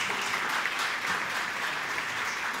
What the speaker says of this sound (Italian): Allora, un grossissimo applauso a Michele Maggioni e Francesco Ghislanzoni